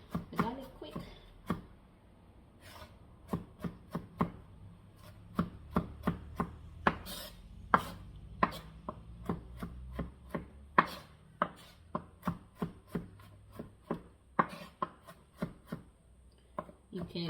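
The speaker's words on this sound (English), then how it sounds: "Just rocking motion, and it helps to chop the garlic quick." A kitchen knife chops garlic on a cutting board with a rocking motion, producing a long run of quick, crisp close taps in an uneven rhythm while a person talks.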